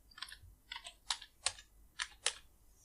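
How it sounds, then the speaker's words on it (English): Keys clacking on a computer keyboard in a handful of distinct, fairly close bursts of typing, separated by short pauses, with no talking over them. "So type rotate."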